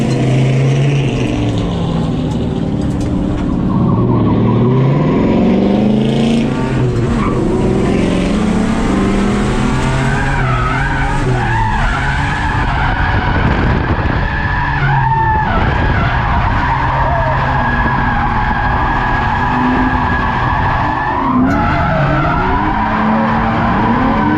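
A Ford Falcon AU drift car at a DriftingSA round: loud, sustained tire squeal and skidding over a revving engine that rises and falls through repeated slides, close and continuous, with no talk.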